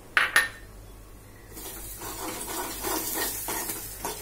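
Spices sizzle as they are stirred in a pan for tomato pickle, with two sharp metallic clinks at the start, then a steady frying hiss broken by repeated spoon scrapes, close and with no voices.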